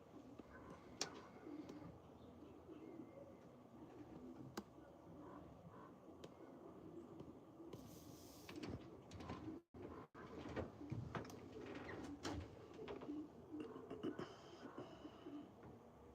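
Racing pigeons in a breeder stall, heard as faint, low cooing and soft rustling, with a few scraping, door-like knocks inside a quiet enclosed space.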